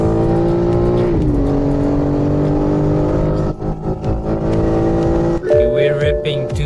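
BMW M4 G82 accelerating hard from 100 to 200 km/h, a loud, steady engine drone with rising pitch, a brief dip at a gear shift, and a voice talking over it.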